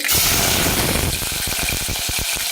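Mutton dropped into hot oil, a loud broadband sizzle bursting at first, then settling into a steady frying hiss with crackling pops, close and alone.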